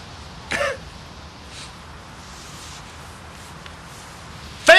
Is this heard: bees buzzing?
no